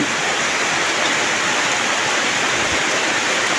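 Heavy rain pours steadily in the early morning during a storm, filling the fields, a dense unbroken hiss that stays loud and even from start to finish, with no voices.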